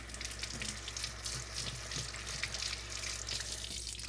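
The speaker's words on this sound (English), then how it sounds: "I like to wet the spatula just a little bit." A cake spatula is wetted under running tap water while decorating a teddy bear cake, giving a steady, close splashing hiss of water that runs throughout without any talking.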